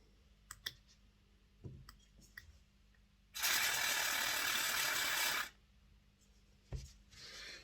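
Slots of a Wrenn Railways Class 8F model locomotive commutator being scraped out: faint scattered ticks and clicks, then a loud, sustained, hissing scrape lasting about two seconds, followed by a few more light knocks.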